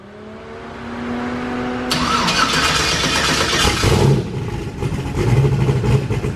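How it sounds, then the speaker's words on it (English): A turbocharged LS V8 swapped into a Mustang, running Holley EFI on E85, cold starts near the mic, cranking and catching, surging loudly into a rough, rumbling idle with a brief rev. "Cold start, Holley EFI."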